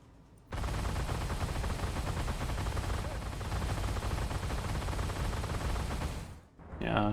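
Twin autocannons of a Flakpanzer Gepard anti-aircraft tank in a video game fire in one long, loud continuous burst lasting several seconds, then stop abruptly before a brief voice.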